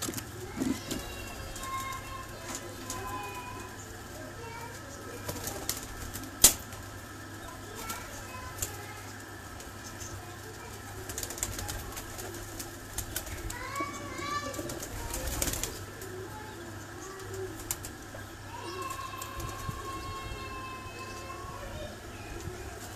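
Pigeons on a rooftop loft in Kharian, cooing and fluttering among steady outdoor background noise, with people talking throughout and a couple of sharp knocks.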